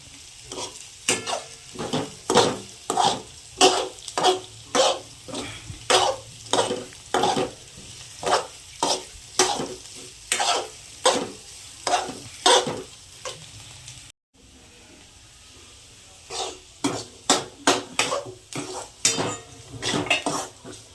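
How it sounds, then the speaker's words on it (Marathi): Onions fry in a kadhai while a utensil strikes and scrapes the pan in a steady rhythm of sharp metallic knocks over a low sizzle, with a brief pause near the end and no speech. "तर कांदा भाजत आलाय बघा।"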